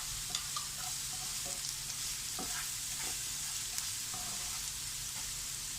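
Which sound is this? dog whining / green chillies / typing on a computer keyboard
green chillies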